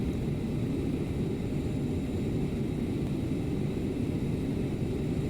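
A CRJ700 jet taxiing in Microsoft Flight Simulator 2020 gives a steady, dense low engine rumble and hiss that holds constant throughout, with no voices.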